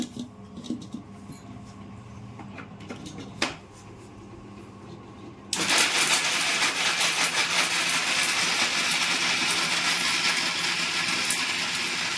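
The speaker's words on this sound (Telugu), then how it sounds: "మిక్సీకి వేసుకుందాం" A mixer grinder grinding chana dal and coconut: after several seconds of quiet room sounds and small clinks, the motor suddenly switches on into a loud, steady whirring roar that runs to the end.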